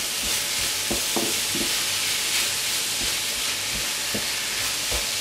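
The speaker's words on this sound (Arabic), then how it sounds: "دونك خلي هذاك البصل تاعي يتقلى" Onion frying in a pan gives a loud, steady sizzle and hiss throughout, broken by occasional scraping stirs and light clatter from a utensil, close up and with no talking.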